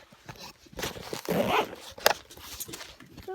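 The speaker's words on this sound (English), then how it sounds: "Let's zipper it up." A bag of fidget toys is zipped shut with a quick, faint zipper rasp lasting about a second, followed by light rustling and small clicks.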